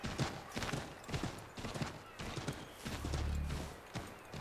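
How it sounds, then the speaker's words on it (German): A horse gallops in Assassin's Creed III with a steady, close rhythm of hoofbeats landing in quick repeated thuds, loud and continuous for a few seconds with no voice over it. "Ah, jetzt kann ich auch galoppieren."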